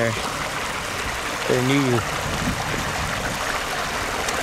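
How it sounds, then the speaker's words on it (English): Small waterfall and little creek bed feeding a newly built pond in a mink enclosure give a steady, close trickling and rushing of water throughout, with a voice speaking briefly over it. "It's so cool, this waterfall and the little creek bed."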